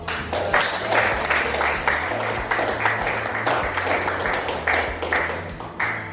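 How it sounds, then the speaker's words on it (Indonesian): An audience applauds with dense, steady clapping throughout, close and loud, while a low tonal hum runs underneath. "kasih tepuk tangan untuk"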